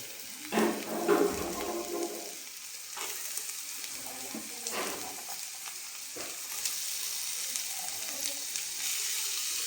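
Half a kilo of cut carrots sizzling as they go into a hot pan, with scraping stirs and clatters over a steady frying hiss.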